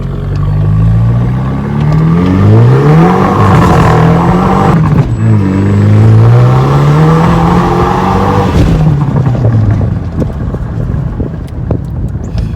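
A loud, close Audi TT revs and accelerates through rising and falling engine pitches, with a burst of turbo flutter around the shifts, continuous for about ten seconds before easing off.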